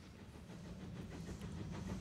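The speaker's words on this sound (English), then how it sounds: "that train sound like it was coming from the real world" A train in the Demon Slayer anime gives off a faint, steady rumble with soft hissing and light rhythmic rattling for about two seconds, with no voices over it.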